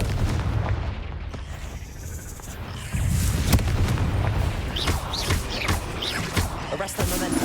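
A Confringo fire spell explodes in a Hogwarts video game cave, a sudden boom followed by sustained crackling blast noise and rumbling debris at fairly high volume.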